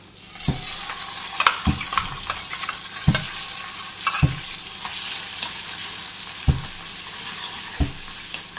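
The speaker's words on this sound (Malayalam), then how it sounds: "എണ്ണ ചൂടായിട്ടാണ് നമുക്കതിലേക്ക് ഈ മസാല ഇട്ട് കൊടുക്കാം" Masala hits hot oil for capsicum masala, bursting into a loud hissing sizzle that holds steady, punctuated by repeated knocks and scrapes of a stirring spoon against the pan.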